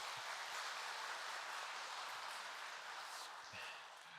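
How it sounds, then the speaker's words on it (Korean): Church congregation applause during a Korean afternoon worship service, a soft, even patter of many hands heard at a distance, steady and then tapering slightly near the end. "찬양을, 박수를 좀 돌리고 싶습니다."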